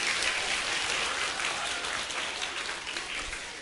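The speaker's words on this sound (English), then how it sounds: "Give yourself a round of applause" An audience applauds steadily for several seconds, a dense, even wash of clapping from a crowd that stays loud throughout and tapers only slightly toward the end.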